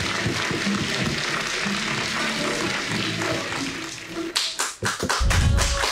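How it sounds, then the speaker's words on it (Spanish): A TV studio audience applauds a departing show host: dense, steady clapping that fills the room for several seconds, then breaks into scattered claps and taps near the end. "que este aplauso suene"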